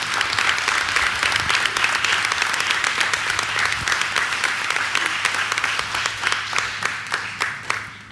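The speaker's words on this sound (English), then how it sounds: "can we please give a round of applause to Dr. Perkins for seeing this?" A room full of people at a school board meeting claps steadily for several seconds, a dense, even patter of applause that thins slightly toward the end.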